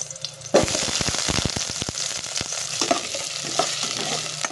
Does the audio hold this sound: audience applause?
no